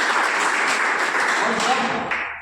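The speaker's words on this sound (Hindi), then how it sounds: "ठोकिए ताली।" Audience applause at the opening of a coaching centre, a dense burst of clapping close and loud throughout, tapering slightly at the end.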